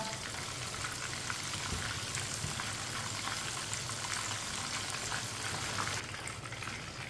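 Fish frying in hot oil gives a steady, dense sizzle and crackle close up, continuing without pause and without voices.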